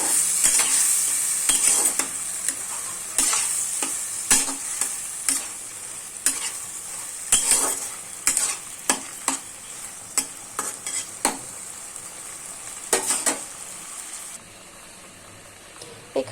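Elephant apple (chalta) chutney gets stirred in a pan, a series of distinct scraping strokes at an uneven pace over a soft continuous sizzle, close and fairly clear, with no talking.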